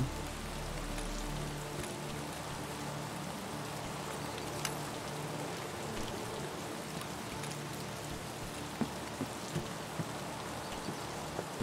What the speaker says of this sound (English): this rain is wild, man